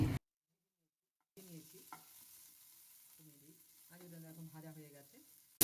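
Potatoes frying in hot oil in a kadai, sizzling steadily for a few seconds after a short silent gap, with tonal, voice-like sounds over the sizzle.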